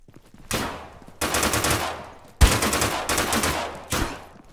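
Loud gunfire in the survival shooter Deadside booms out in several heavy shots with long rolling tails, some shots close together and others spaced apart, with no talk over them.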